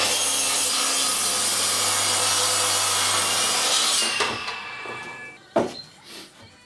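Hand saw cutting through a piece of timber, a loud continuous rasping stroke that slows and stops near the end, followed by a knock and a few faint handling sounds, close up with no speech.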